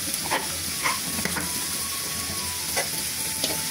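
Beef fries with salt in a pan, giving a continuous close sizzle broken by a few light stirring scrapes and soft pops.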